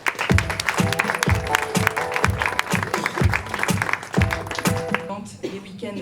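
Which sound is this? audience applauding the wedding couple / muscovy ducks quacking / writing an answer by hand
audience applauding the wedding couple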